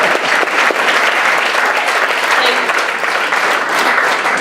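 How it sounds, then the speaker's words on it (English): Audience at a motivational sales speech bursts into loud, dense applause that stays strong and steady from start to finish. "Clap it up for me."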